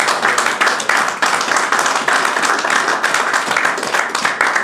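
Church congregation clapping and applauding, a dense, loud, continuous wash of many hands with a faint rhythmic beat, no speech over it.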